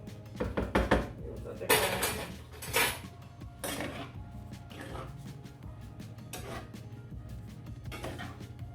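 Pancetta carbonara is stirred in a metal pan with a utensil, giving repeated loud scraping and clanking strokes of metal on metal, busy at first and then settling into lighter, quieter scrapes.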